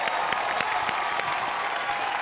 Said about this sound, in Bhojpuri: तो मनोज जी के लिए जोरदार तालियां।